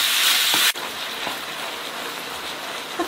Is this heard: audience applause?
no